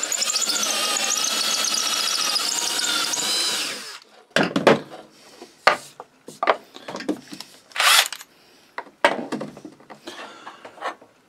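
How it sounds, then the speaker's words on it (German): A cordless drill-driver bores a hole through a guide into a marked centre line, whining steadily for about four seconds before breaking into short, irregular bursts of drilling and scraping. "Dann nehme ich mir meinen Akkuschrauber, schiebe den hier in das Loch rein, fixiere die Mitte des Striches und bohre drauf los."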